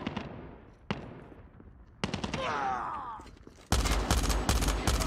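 Burst-fire rifle in the mobile shooter game Call of Duty Mobile, with a few sharp shots early, a clattering reload, then rapid loud bursts at the end.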